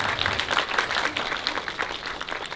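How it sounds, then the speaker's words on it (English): An audience at a cookbook panel at a Vietnamese book festival applauds a panelist, a short steady patter of many hands clapping together at moderate volume, with faint voices mixed in. "Give her a little applause."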